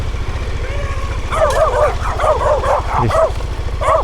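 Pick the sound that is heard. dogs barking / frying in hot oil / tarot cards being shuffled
dogs barking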